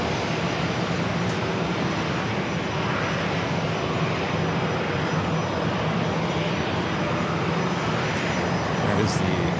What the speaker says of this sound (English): Followed by Southwest Airlines heading to Indianapolis, Indiana, flight 4345, a 737-700.